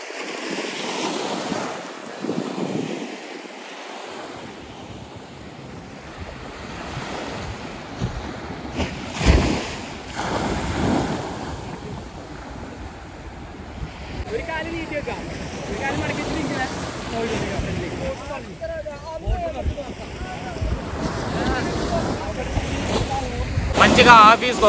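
Ocean surf rolls and breaks steadily at Chavakkad beach in Kerala, a continuous loud wash of waves mixed with gusts of wind buffeting the microphone throughout.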